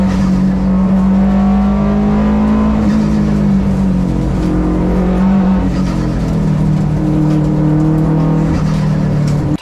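A Subaru WRX race car on a hill climb accelerates hard through the gears, engine note climbing, dropping at each shift and climbing again, loud and sustained with no voices.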